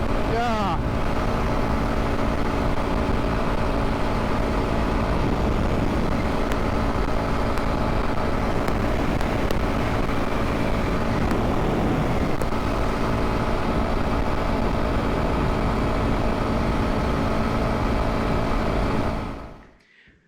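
A Kawasaki KLX230S dual-sport motorcycle runs flat out in sixth gear on a top speed test, with steady loud engine drone and wind roar throughout that cuts off abruptly at the end.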